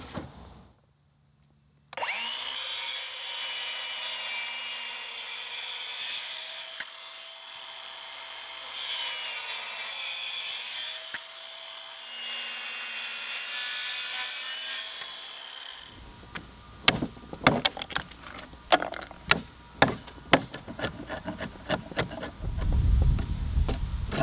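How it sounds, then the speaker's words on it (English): Hand sawing into a wooden 4x4 post to cut a 1.5-inch-deep lap joint, steady rasping strokes in long sustained bursts, then sharper knocks and chiselling clatter toward the end, close and loud with no talk. "After cutting the lap joint, I'll cut the post to length."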